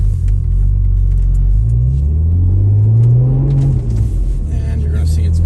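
An Audi B5 A4 pulls away, its engine rumble rising in pitch as it accelerates, loud and close.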